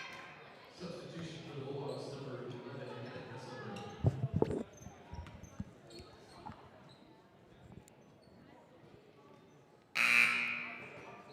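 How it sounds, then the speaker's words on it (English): A loud electronic substitution buzzer blares once near the end of a high school girls' basketball game, following stretches of gym noise, footfalls and voices. "Buzzer sounds."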